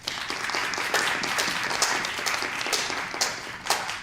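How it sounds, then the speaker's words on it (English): Applause for school board members at a board meeting: steady clapping from a small group for about four seconds, fairly close, with no talking over it. "Let's give them applause."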